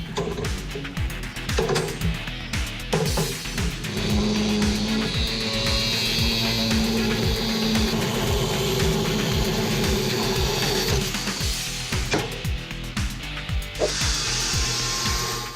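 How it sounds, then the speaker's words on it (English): A cutoff wheel grinding through the end cap of a custom steel bumper, a loud continuous whining, rasping cut with a rapid chattering pulse, up close and sustained for most of the stretch. "So we're going to use a cutoff wheel to get that really precise cut."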